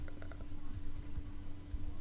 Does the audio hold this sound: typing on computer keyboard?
yes